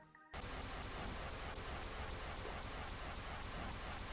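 Subsuming Vortex magic weapon in Terraria Calamity firing a continuous, dense stream of loud noisy blasts after a brief quiet start, sustained and unbroken to the end.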